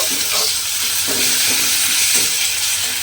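About a spoonful of ginger-garlic paste fries in a pan for an egg dhoka dish, giving a loud close hissing sizzle with a few brief scraping stirs, and no one speaking.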